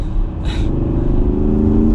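A 2020 Porsche Cayenne Turbo Coupe V8 hums under load, a close, steady engine drone that swells slightly with a brief higher burst near the start, with no talking.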